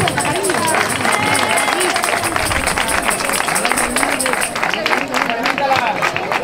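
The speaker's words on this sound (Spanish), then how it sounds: "Un aplauso para Ana." Applause and cheering from a crowd greet a woman finishing a charity fun run, with steady clapping mixed with crowd babble throughout, loud and continuous.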